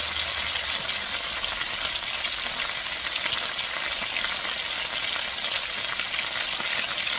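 Pork chops with apples and a sugary glaze cook in a pan on lowered heat, giving a dense, steady, close sizzle that holds evenly throughout without pauses or voices.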